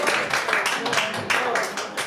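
Scattered audience applause at a small live performance event, a brief burst of clapping from a modest crowd, fairly quiet and diffuse.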